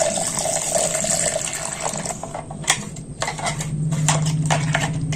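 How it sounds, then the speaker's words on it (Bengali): Water running into a mixer grinder jar as it is rinsed, a steady faucet stream with hollow sloshing and a few clinks as the jar is swirled, close by, with no voices. "মিক্সিং জারের মধ্যে অনেকটাই কিন্তু লেগে আছে। এটা আমি জল দিয়ে ধুয়ে নেব।"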